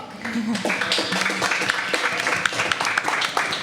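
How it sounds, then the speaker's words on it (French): Audience applause at a French entertainment show, a steady wash of clapping that runs throughout, with voices and cheering mixed in. "On l'applaudit bien fort"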